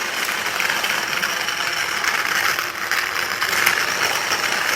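A steady, loud mechanical whir with a gritty rattling grind, continuous throughout, like a drill driving a hand grinder.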